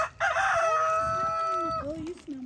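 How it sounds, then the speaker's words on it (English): Chickens on a ranch give a loud rooster-like crow with a falling tail, followed by softer clucks nearby, with faint talk underneath. "There's the chickens."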